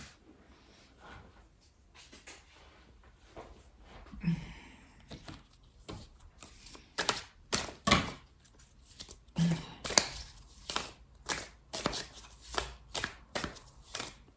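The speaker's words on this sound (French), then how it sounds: "je vais tomber des cartes là" Tarot cards are shuffled and dropped onto a surface, producing a run of soft riffles, slaps and taps that grow busier and more rhythmic toward the end, with no talking.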